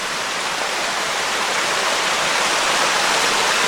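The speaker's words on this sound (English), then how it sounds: "there's a waterfall over here" A waterfall roars loud and steady nearby, a dense unbroken rush of falling water filling the whole scene without any voices.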